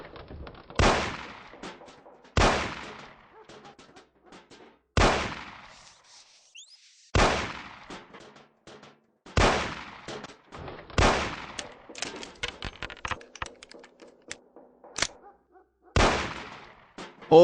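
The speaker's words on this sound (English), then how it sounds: "Shoot the cans off of the table." Gunshots fired at cans on a table in the game Mafia ring out about eight times at irregular intervals of one to two seconds. Each is a sharp, loud crack with a short decaying tail, and clicks and rattles fall between them.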